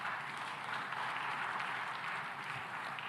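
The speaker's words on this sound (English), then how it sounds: "Now you can clap." Audience applause at an African food systems forum, a steady dense wash of clapping that holds evenly from start to finish without breaks.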